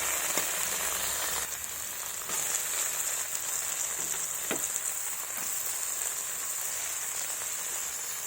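Chopped tomatoes sizzle in a pan of ground dried chilli, ginger, garlic and cumin paste for a goat-fat and peas dish, a steady close frying hiss with small scattered pops throughout.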